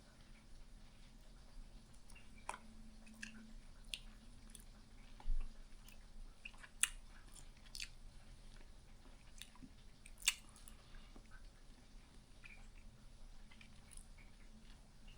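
Slow, quiet chewing of a Kraft mac and cheese flavored gummy, soft sticky clicks and squishes spaced irregularly, close to the mic with near silence between bites.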